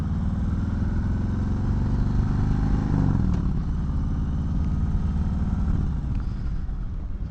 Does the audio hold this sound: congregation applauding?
no